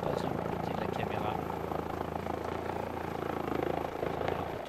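A helicopter engine in a flight simulator runs with a steady, continuous rotor drone throughout, under someone speaking.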